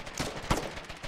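Rapid, distant crackle of infantry gunfire in a video game battle, irregular bursts of shots blending into a continuous fusillade with one sharper report midway.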